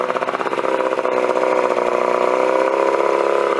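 A 1973 85hp Johnson outboard motor running at a steady, fast-pulsing idle, loud and close, with a rough, even rhythm throughout and no voices.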